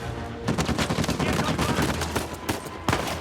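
Enemy gunfire in Uncharted 4: bursts of rapid automatic shots with sharp single cracks mixed in, loud and close, continuing through the whole stretch.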